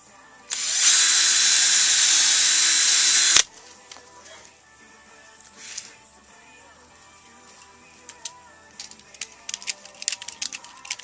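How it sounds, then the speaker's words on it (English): A power drill pre-drills through wooden paint stirrer sticks in one loud, steady whine of about three seconds that cuts off abruptly, followed by faint clicks and small handling taps nearby. "I'm going to pre-drill through it and then use a screw and a washer"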